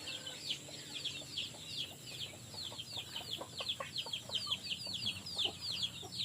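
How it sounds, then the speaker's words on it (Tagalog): A flock of chickens clucks and chirps continuously while pecking at feed, a busy layered chatter of short calls close by with a few soft pecking taps underneath and no speech. "manok ng kapitbahay, tayo na rin nagpapatuka kasi dito sila tumutuka."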